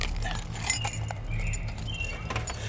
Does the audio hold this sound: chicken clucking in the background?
no